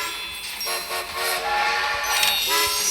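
Electronic train sounds from the mobile game Train Conductor World: a sustained horn or whistle tone with chiming layers over a continuous rolling rumble, moderately loud and steady throughout.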